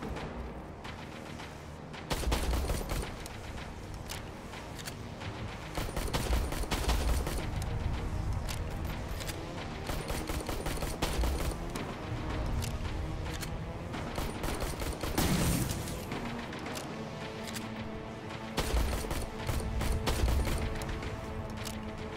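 Rapid gunfire bursts and booming shots from a Terminator: Resistance shootout, loud and dense throughout with repeated volleys and heavy impacts overlapping.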